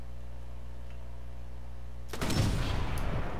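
Gunfire in the World War II shooter Sniper Elite 4 bursts in after a steady low engine drone, a sudden loud crack followed by rolling booms and a second sharp report.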